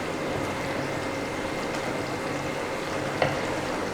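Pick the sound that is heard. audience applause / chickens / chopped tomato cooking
chopped tomato cooking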